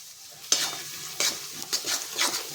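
A spoon scrapes and stirs spices with asafoetida frying in a pan for moong dal, four distinct stirring strokes that rise over a soft, continuous sizzle nearby.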